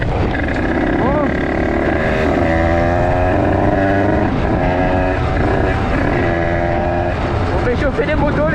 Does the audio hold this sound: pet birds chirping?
no